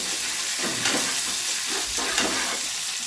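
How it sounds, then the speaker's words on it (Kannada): Garlic paste and curry leaves fry in hot oil with a steady close sizzle, and a few soft stirring scrapes rise and fall over it. "ಇವೆಲ್ಲ ಚೆನ್ನಾಗಿ ಫ್ರೈ ಆಗಬೇಕು."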